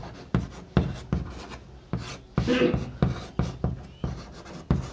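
Chalk or marker strokes on a board during a class 10 maths lesson on real numbers, a series of sharp taps and short scratchy rubs in an uneven rhythm, close and fairly loud, with brief voice sounds between strokes.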